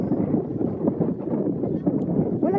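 Heavy wind on the shore at Nanoose Bay, British Columbia, during a negative tide buffets the microphone in a continuous low rumble, with gusts rising and falling throughout.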